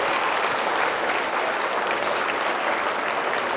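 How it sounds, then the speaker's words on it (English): Steady, dense round of applause from a gala audience for honourees aged over 70, continuous and even throughout with no voices standing out. "let's first of all start with a round of applause for those people and all of us here tonight"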